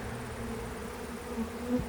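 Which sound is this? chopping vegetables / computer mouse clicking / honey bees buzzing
honey bees buzzing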